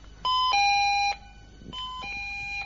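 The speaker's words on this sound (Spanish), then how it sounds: "Este es el sonido de la alarma cuando está activada." An activated security alarm sounds in a castle during a live broadcast: two loud electronic two-tone chimes, each a lower note stepping up to a higher one, repeating after a short pause.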